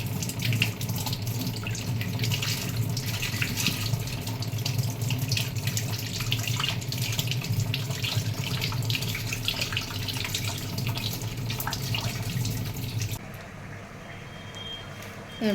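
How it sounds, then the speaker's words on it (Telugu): Raw snails are rinsed under a running kitchen tap, with a loud, steady stream of water splashing and gurgling for most of the clip before it cuts off near the end. "పచ్చి నత్తలు శుభ్రం కడుక్కొని నీట్గానే కడిగి పెట్టుకున్నాను. ఇలా నీట్గా కడుక్కోవాలి."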